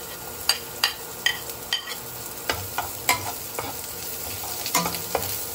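Onions frying in hot oil for chicken neck adobo, a steady hiss punctuated by a series of sharp spatula knocks and scrapes against the pan at an uneven rhythm, close by and without speech.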